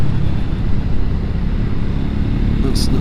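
Triumph Scrambler 400x motorcycle engine droning steadily at close range on a summer evening ride in North Wales, with constant loud rumble and wind noise throughout.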